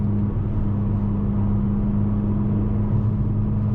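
A 2023 Mercedes CLA 45 S AMG Coupe engine drones steadily while driving, with a loud, even low hum and rumble from inside the cabin and no speech.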